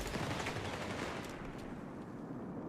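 Sustained machine gun fire in Company of Heroes 3, a dense, continuous crackle of automatic bursts with no pauses, steady and fairly loud throughout, slowly thinning toward the end.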